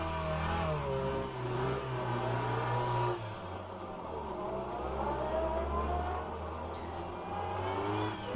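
A race car in the rFactor 2 racing game drives with its engine rising and falling through revs, a steady transmission whine running beneath, held at a moderate level throughout with no talk.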